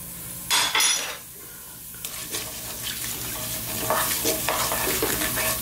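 Fennel seeds and mustard seeds fry in hot oil for a raw banana masala curry, a steady close sizzle with bursts of stirring and scraping in the pan, continuous and fairly loud with no talking.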